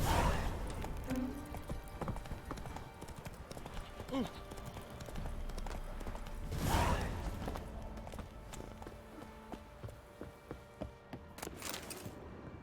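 A horse's hooves clip-clop at a steady walking pace on a road in Witcher 3: Wild Hunt, with a voice talking over the hoofbeats and a brief whinny-like swell midway.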